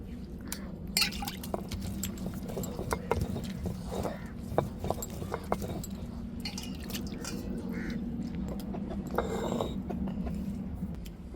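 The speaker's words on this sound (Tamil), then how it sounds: "அரைச்ச மசாலா தேங்காய் தண்ணியை ஊற்றிருக்கோம்." Ground masala mixed with coconut water being poured into a pan of fish aviyal, soft liquid splashing and dripping with wet squishy sounds, fairly quiet and close.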